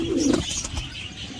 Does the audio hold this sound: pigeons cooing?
yes